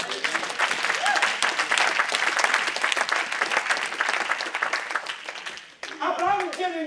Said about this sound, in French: Acclame le Seigneur ton Dieu.